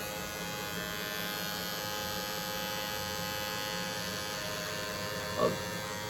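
An electric razor buzzes steadily while trimming the beard under the nose, a continuous close motor hum with a slight change near the end.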